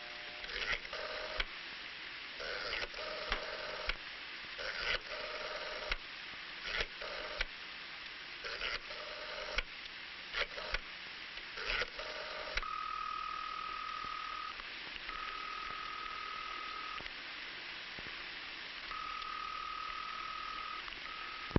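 A 1965 rotary telephone, its dial clicking through several numbers in short bursts, followed by a steady tone, all faint and thin.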